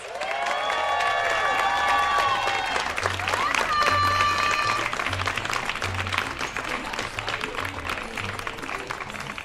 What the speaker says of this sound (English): give a warm welcome and a well-deserved round of applause to our 2025 Latino Heritage Month Madrina, Elizabeth Martinez.